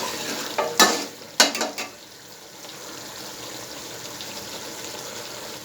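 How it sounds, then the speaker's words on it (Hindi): Chicken karahi gravy is fried and stirred over a medium flame in an open wok. Two or three sharp sizzling bursts from stirring come first, then the pan settles into a soft, steady low sizzle. "इसको भी हम मीडियम फ्लेम पे आप भूनने देंगे"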